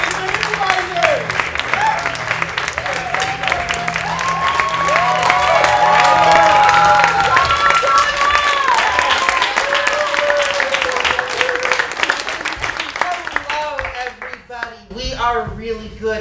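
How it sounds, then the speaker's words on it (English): An improv comedy show crowd claps and cheers loudly and continuously, with whoops and excited voices rising over the dense applause before it thins out toward the end. "Let's give a warm round of applause for 14 tonight"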